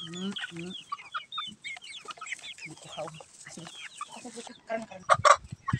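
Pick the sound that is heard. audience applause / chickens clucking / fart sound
chickens clucking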